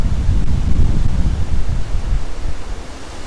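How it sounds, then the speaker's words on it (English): Hurricane Isaias wind roaring steadily through backyard trees, a loud continuous rushing gust with heavy low rumble from wind on the microphone, no voices. "It sounds very reminiscent of like Jamaica, and hearing the wind."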